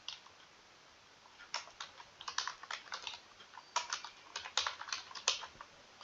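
Quick bursts of keystrokes on a computer keyboard clatter in uneven runs, close and fairly quiet, with short pauses between bursts.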